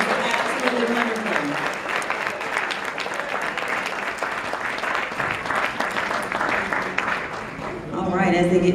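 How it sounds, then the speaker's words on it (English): An audience at a youth awards gala gives a comedian a round of applause, sustained clapping that fills the hall, and a voice comes in near the end. "I'll give Les another round of applause."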